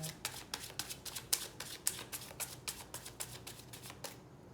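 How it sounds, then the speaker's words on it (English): A deck of tarot cards is shuffled by hand in a steady run of crisp riffling bursts, close and moderately loud, fading to quiet at the end. "Let's give it one more shuffle"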